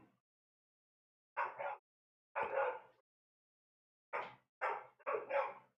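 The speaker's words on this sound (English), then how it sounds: "Can you hear that dog?" A dog barks outside in short bursts, five or six loud barks in irregular groups separated by silence, fairly close and with no other sound around them.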